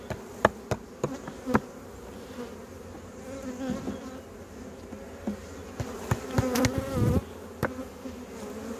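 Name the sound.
honey bees buzzing in a hive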